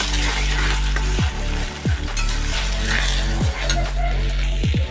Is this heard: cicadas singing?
no